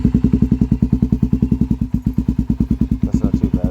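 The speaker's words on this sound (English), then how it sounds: "So we're going to do a little cold start on the 400." A Honda 400EX ATV engine cold-starts and idles with a loud, steady, fast thumping single-cylinder beat that runs evenly throughout, close to the recorder, with a brief lighter clatter near the end.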